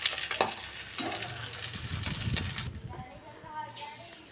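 Nigella seeds frying in hot leftover fish oil in a pan, a broad steady sizzle loud at the start, settling into a softer crackle with a few faint clinks near the end.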